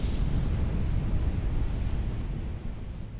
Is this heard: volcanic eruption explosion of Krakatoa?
yes